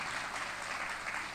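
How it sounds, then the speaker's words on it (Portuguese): A church congregation bursts into sustained applause, a dense, even wash of many hands clapping together with no voices heard over it. "Dá uma salva de palmas para o Senhor para receber os irmãos."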